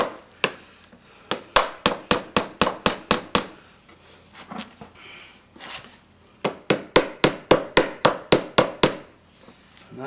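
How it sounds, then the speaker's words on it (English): Rapid runs of sharp metallic taps from a small hammer flattening washers for a saddle kit, two bursts of about a dozen quick strikes each, close and loud, with a short pause between. "You can take your little hammer and kind of flatten them out."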